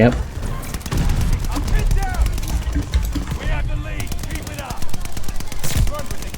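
Rapid bursts of gunfire in a shooting video game, sharp repeated shots running through the whole stretch, loud and close, with someone talking over the action.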